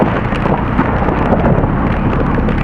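Torrential rain pours down in an Istanbul storm severe enough to count as a natural disaster, a loud, dense, unbroken roar of water with rumbling low end throughout.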